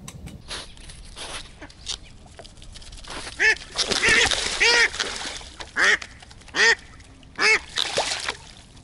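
A live decoy duck on a spring drake hunt quacks in loud, close bursts, single calls and short runs spaced irregularly, over a quiet outdoor background.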